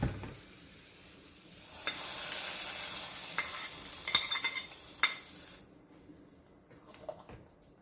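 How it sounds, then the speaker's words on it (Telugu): Ginger pieces and chili powder stirred into a pot of dal khichdi, a soft sizzle followed by a few spoon knocks and scrapes, close and fairly quiet with no talk. "జస్ట్ ఒకసారి బాగా మిక్స్ చేసేద్దాము"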